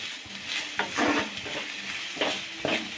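Onions fry to a deep brown in a pan for chicken korma, with a soft continuous sizzle broken by a few clattering stirs of a spatula, close by and with no talking.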